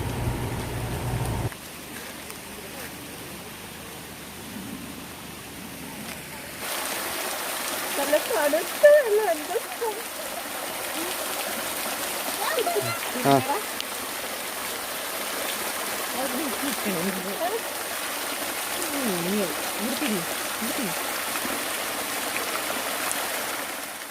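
Water spilling along a forest stream near Athirappilly on the Malakkappara route, a steady broadband rush of flow and splashing that carries through the whole stretch, with people talking over it at times.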